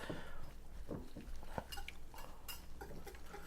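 A whisk works through a crab cake mixture in a bowl, giving repeated light clinks and scrapes against the sides in an uneven rhythm, close and moderately quiet with no talking.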